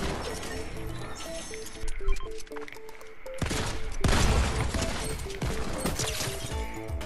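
Rapid bursts of heavy gunfire from a hand cannon in the Fortnite video game, loud and dense, with several clustered volleys and clattering mechanical effects between them and no talking.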